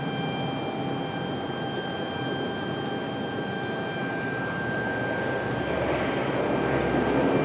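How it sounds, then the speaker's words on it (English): An ATR turboprop airplane lands at Raleigh-Durham airport, heard from across the field as a continuous droning engine roar with steady propeller tones that swells slightly toward the end. "And you hear the ATR over on the other side."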